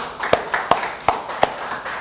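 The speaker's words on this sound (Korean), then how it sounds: "하나님께 영광의 박수를." A few sharp, separate hand claps at a Korean Wednesday church service, about six distinct smacks in an uneven rhythm, close and fairly loud against a quiet room.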